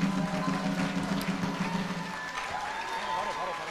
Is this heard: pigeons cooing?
no